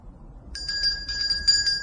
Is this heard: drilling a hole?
no